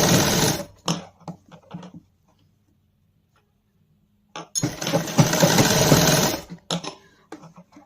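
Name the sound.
sewing machine stitching sleeve to armhole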